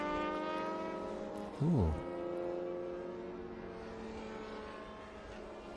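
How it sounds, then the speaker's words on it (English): Race cars with high-revving Suzuki Hayabusa 1-liter motorcycle engines whine loudly at an SVRA race at Indianapolis Motor Speedway, one passing close with a sharp pitch drop before a steady engine drone continues, and a brief exclamation is heard. "That Hayabusa or Suzuki 1-liter motorcycle motor, high revving, has a great whine to it."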